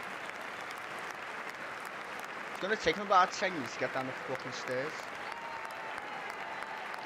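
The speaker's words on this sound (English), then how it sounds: "Come on, all clap like a bunch of muppets." An audience at the State of the Union applauds continuously, a steady wash of clapping from a large hall, while someone talks over it in the middle.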